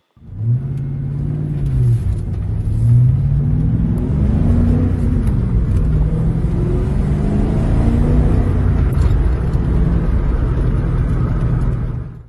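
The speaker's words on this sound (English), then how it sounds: "So with a new battery, gasoline, serpentine belt, a couple things like that, he got the car running, and it still ran very well." A 1997 Ford Mustang Cobra, a Japan-spec car, idles steadily and close with a low, even engine rumble that holds for about twelve seconds and shows mild shifts in pitch. No one speaks over it.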